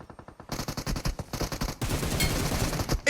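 Gunfire from the battle game PUBG Mobile, with rapid bursts of automatic shots in quick rhythmic strings, then a dense continuous volley, loud and close with no speech over it.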